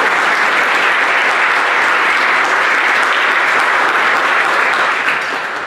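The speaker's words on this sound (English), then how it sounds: "So give the rounds of applause." A church congregation at a First Responders Mass claps steadily, a loud, sustained wash of applause that fades slightly at the end.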